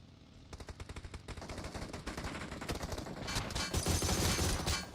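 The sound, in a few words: gunfire in a video game battle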